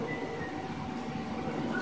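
Train in GTA San Andreas, a steady low rumble of rolling wagons running throughout at moderate volume, with a faint tonal hum and a brief louder bump at the very end.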